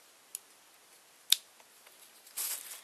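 Scissors snip through wrapped yarn for a pom pom bookmark, a few sharp isolated clicks spaced apart, the loudest near the middle, followed by a brief rustle of handled yarn in a quiet room.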